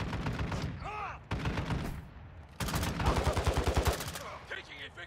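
Video game gunfire crackles in rapid bursts, with sustained automatic fire separated by brief gaps and sharp single shots, loud and close, with a player's voice talking between the volleys.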